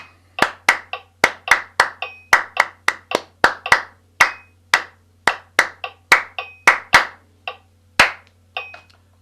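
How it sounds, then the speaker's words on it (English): Hands clap in a quick, steady rhythm for a warm-up exercise, about two dozen sharp, close claps in short bursts with brief pauses between groups. "Just a little bit of clapping to get us going."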